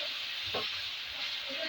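Onion frying with ginger garlic paste and green chili in a pan gives a steady, moderate sizzle with a brief stirring scrape partway through.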